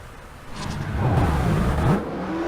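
Engine of a car driven in the racing game Forza Horizon, a steady mid-loud whir that rises and falls in pitch as it accelerates and shifts, with no talk over it.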